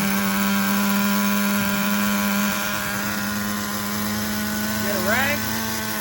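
Nitro engine of an HPI RS4 RTR3 radio-controlled car buzzing steadily at high RPM, loud and continuous, with a brief rising rev near the end.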